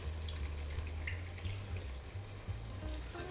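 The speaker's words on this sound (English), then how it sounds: "I'm gonna add the entire thing of soy milk." Soy milk pours into a hot pan that was just deglazed for vegan creamy pesto pasta, giving a soft, steady liquid splash and faint sizzle with a low hum underneath, quiet and close.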